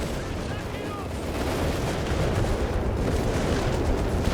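A Vickers machine gun firing at rushing Panzer tanks in the strategy game Company of Heroes 3, dense continuous gunfire and battle rumble throughout, with a caster talking over it.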